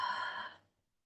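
Slow, breathy exhalation during a yoga breathing exercise, a single soft sigh-like breath out that fades away after about half a second, close and quiet with no talking.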